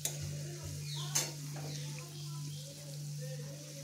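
Fish roe being stirred and fried in a pan on a gas flame: soft, faint sizzling under scraping strokes of a spatula, with a couple of sharper clinks against the pan.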